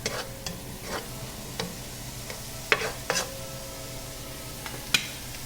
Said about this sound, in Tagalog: I-mix ko naman po tong green peas. Magkalasa lang po sila.